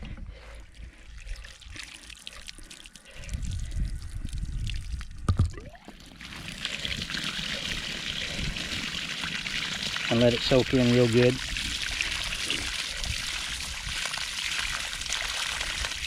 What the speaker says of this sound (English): then I turn the water on